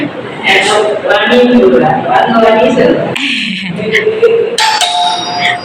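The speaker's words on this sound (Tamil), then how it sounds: "பெல் அடிக்கிறேன்." A doorbell at a rented home is rung, its chime sounding briefly amid and between stretches of people talking nearby.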